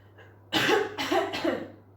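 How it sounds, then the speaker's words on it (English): Three quick, harsh coughs in a row, close and loud, each a burst of breathy noise. "give me a nice big cough."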